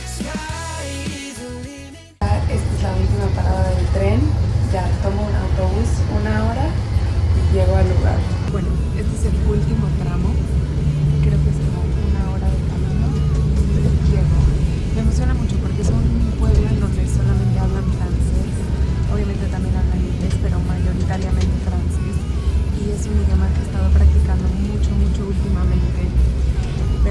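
Ride aboard a bus climbing roads in the Swiss Alps, with a steady loud engine drone and road rumble running throughout, after a brief burst of other sound at the very start.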